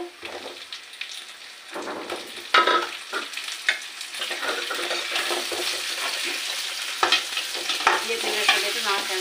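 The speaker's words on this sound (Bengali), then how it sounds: "এবারে আমার পেঁয়াজটা ভালো করে ভাজি হয়ে গেছে" Onions frying in hot oil in a pan, stirred with a utensil: a continuous close sizzle broken by scraping and clattering strokes, with no talking.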